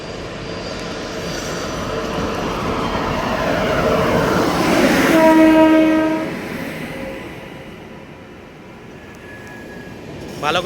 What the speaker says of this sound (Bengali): আর জাস্ট হয়তো কিছুক্ষণের মধ্যেই ট্রেন ঢুকবে